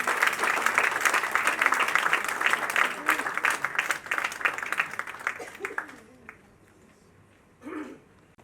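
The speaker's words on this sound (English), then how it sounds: "Round of applause, ladies and gentlemen," A crowd applauds actress Aditi Rao Hydari at a book unveiling, dense clapping that runs for about six seconds, then fades to a quiet room where a voice briefly speaks.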